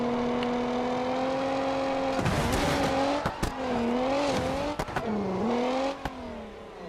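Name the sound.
loud car engine in BeamNG video game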